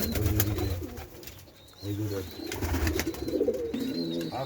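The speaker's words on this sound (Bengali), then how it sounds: "এই যে বাচ্চা কবুতরের বাচ্চা" Soft, repeated pigeon coos close by in a pigeon house with chicks, mixed with light chirping and a voice speaking nearby.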